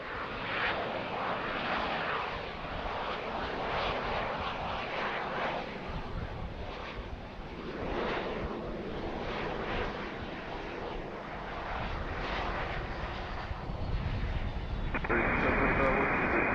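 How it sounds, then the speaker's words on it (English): An Embraer airliner passes at Harrisburg International Airport. A steady broadband jet roar holds throughout and swells slightly toward the end, heard from a distance with wind noise on the microphone. "There's the Embraer."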